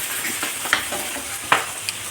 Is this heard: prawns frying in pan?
yes